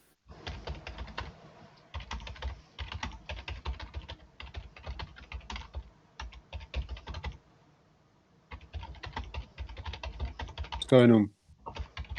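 Close, rapid typing on a computer keyboard clatters in irregular bursts with short pauses, and a brief voice cuts in near the end.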